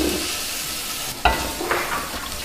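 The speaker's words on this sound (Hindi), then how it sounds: "ये हमने ऑयल डाल दिया प्याज डाल देंगे" A low, steady hiss of onions softening in oil in a pan, with a sharp knock near the middle and a soft scrape after it. The sound stays close, with no voices.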